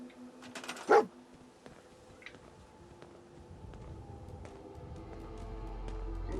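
A dog in the video game Fallout 4 gives a single loud, sharp bark near the start, followed by quieter game ambience and a rising low rumble.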